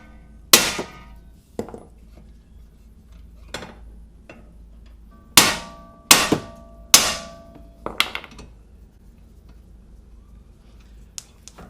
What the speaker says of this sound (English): Swing a hammer to break the steering tie rod ends.